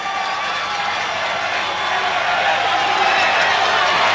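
Crowd noise from lacrosse fans at the rain-soaked 2002 world championship final between the USA and Canada, a steady broad roar with cheering held at an even level throughout.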